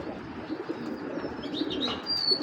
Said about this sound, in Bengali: দেখেন কবুতর দেখবেন।